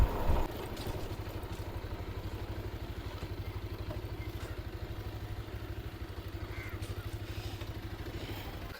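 A motorcycle engine idles and runs steadily nearby throughout, with a regular low pulsing chug and some clatter, heard during a ride at a village bonfire festival.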